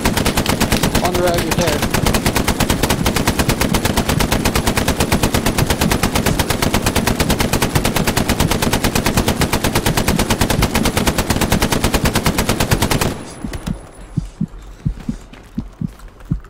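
Sustained rapid machine-gun fire in the World War II shooter Hell Let Loose, a loud unbroken stream of shots for most of the stretch, then cutting out to scattered fainter bursts, with a voice briefly speaking over it.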